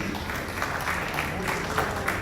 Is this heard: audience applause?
yes